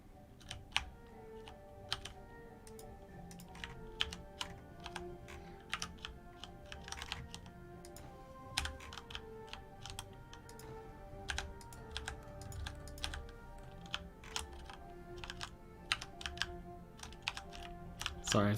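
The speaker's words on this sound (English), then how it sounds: "Sorry if the keyboard's really loud because it's right next to the microphone." Loud computer keyboard typing right beside the microphone during a Timberborn game session, a steady run of close, sharp key clicks over a low background hum, with no talking.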